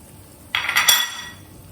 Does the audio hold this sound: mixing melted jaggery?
yes